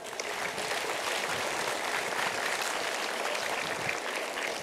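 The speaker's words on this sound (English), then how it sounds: "A huge round of applause," Audience at a school Indus Day ceremony for MYP and DP students applauds the teachers, a steady dense wash of clapping at moderate loudness that holds evenly throughout without a break.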